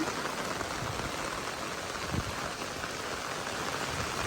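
Heavy storm rain pours steadily in a dense, unbroken roar of drops hitting surfaces, loud and close, with a brief thud partway through.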